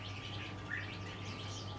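A caged songbird gives one short, faint chirp in the middle of a quiet stretch, heard over a steady low hum with no talking.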